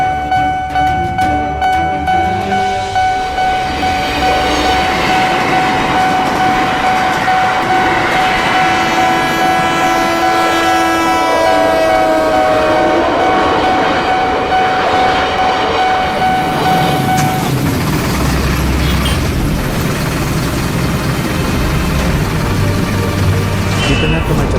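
Train rolling through a railway crossing amid a traffic jam on a road leading out of town, a steady loud rumble with tonal horn-like lines and clatter, fading into lower road noise near the end.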